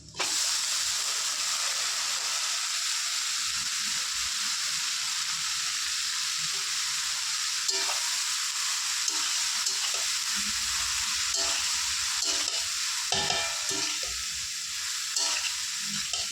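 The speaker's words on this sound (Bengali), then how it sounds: "তো শাকটা ততক্ষণ ভাজা হোক" Saag greens fry with onion and garlic in a wok, giving a loud, continuous sizzle and hiss close by. Stirring scrapes and small crackles come through the sizzle, and no one speaks.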